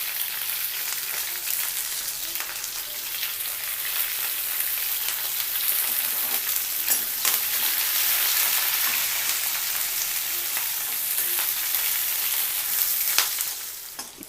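Green chillies fry in hot oil for a tomato and peanut chutney, a close, continuous bright sizzle and crackle with occasional sharper pops, steady throughout with no voices.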